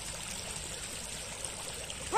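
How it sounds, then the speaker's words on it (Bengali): Floodwater streaming across a submerged rice field, a constant close rushing and trickling wash with no voices. "এখন জলের স্রোত। উড়ি জল যাচ্ছে আসলে জল।"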